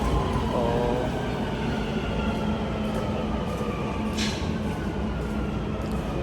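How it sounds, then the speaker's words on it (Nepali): A metro train arrives at a station with a loud steady rumble, whining motor tones and brief wheel squeal and hiss, close and continuous without speech. "अब रेलगाडी छुकछुक गर्दै आउँछ"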